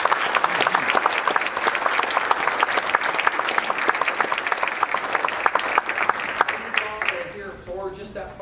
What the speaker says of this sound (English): please join me in a round of applause for